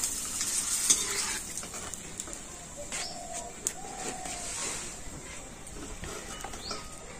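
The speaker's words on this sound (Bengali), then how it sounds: "তো এই পাঁপড়টা ভাজলে সমস্ত পাঁপড়গুলো কিন্তু ভাজা হয়ে যাবে।" Homemade potato and sago papad frying in oil in a home kitchen, a soft steady sizzle with light stirring while pigeons coo faintly in the background.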